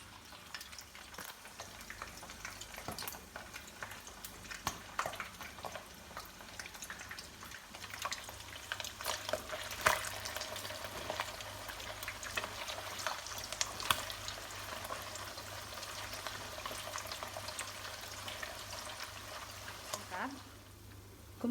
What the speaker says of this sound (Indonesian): Ikannya digoreng sampai setengah kering